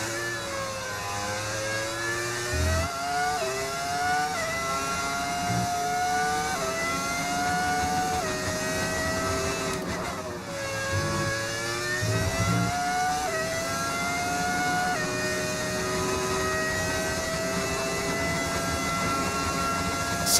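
High-revving F1 car engine from the F1 25 racing game with a sound mod, a continuous loud whine rising and falling through gear changes, with brief dips around downshifts and no voices.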